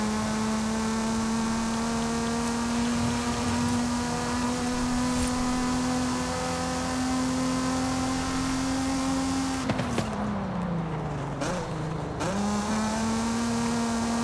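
A Nissan 350Z sports car engine in the video game Forza Horizon 5 drones at a steady pitch, then dips and revs back up, loud and close with no talking.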